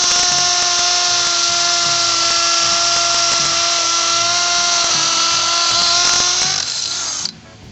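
An Ingco CIDLI20031 cordless drill set to hammer mode runs loud and close with a steady high-pitched whine and a rapid rattling hammer action, holding constant for several seconds before cutting off abruptly.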